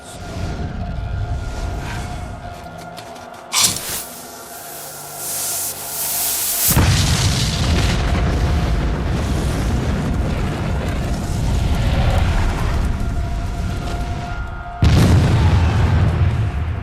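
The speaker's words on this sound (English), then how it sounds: "Canister shot just made that cannon a gigantic shotgun," A heavy cannon firing canister shot, tin cans packed with 28 iron balls, booms and roars, followed by a long rumbling wash and a second sharp boom near the end, loud and close.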